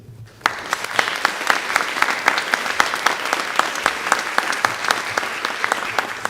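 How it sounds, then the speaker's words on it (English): After a quiet start, a seated audience at a county Teacher of the Year ceremony breaks into a sustained round of applause, with crisp individual claps standing out over a steady, even wash that lasts several seconds. "please join me in a round of applause to show our appreciation to all of our sponsors"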